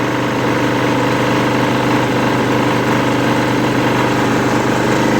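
A GAB-2 portable generator runs steadily, its small engine giving a loud, even droning hum with a constant rhythmic throb and no speech over it.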